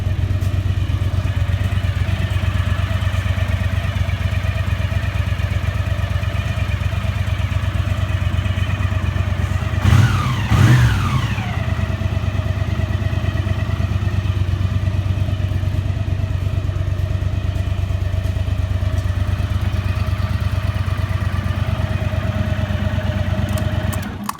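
A 1981 Honda GL500 Silverwing Interstate engine with 55,000 miles idles steadily nearby, with a brief rev and some clattering midway before it settles back to an even idle.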